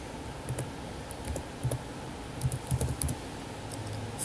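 A domain name is typed on a computer keyboard while a server is set up as an Active Directory domain controller. The keystrokes come as faint, scattered light clicks in small clusters over a low steady hum.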